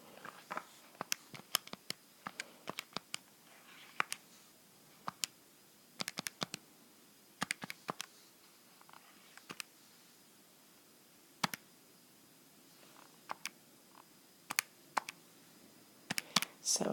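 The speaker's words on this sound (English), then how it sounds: "Let me type that in." Keys on a calculator or keyboard are tapped one at a time to enter numbers, irregular sharp clicks, close but faint over a quiet room, sometimes in quick clusters and sometimes with pauses.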